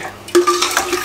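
A spoon stirs a little water into a spiced turnip mash mixture, giving a short burst of scraping and clinking against the pot, close and fairly loud for about a second.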